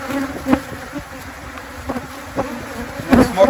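Africanized honey bees buzz steadily close by during requeening, a dense droning hum with occasional louder passes as individual insects fly near.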